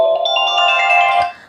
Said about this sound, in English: So here I select the ringtone fresh morning